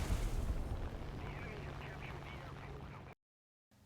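Guns of a Focke-Wulf Ta 152 H-1 firing in a flight video game: a loud, dense, rapid rattle over engine roar that stops abruptly, followed by a brief silence.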